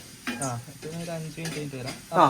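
A spoon stirs and scrapes food around a frying pan with a soft sizzle, steady and close, while a voice talks over most of the mixing.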